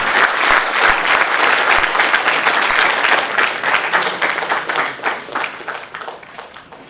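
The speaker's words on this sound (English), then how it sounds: "Please put your hands together." A crowd applauds loudly, a dense wash of clapping that holds steady and then gradually tapers off.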